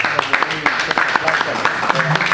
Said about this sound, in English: Make a big round of applause now for Chon Cepeda.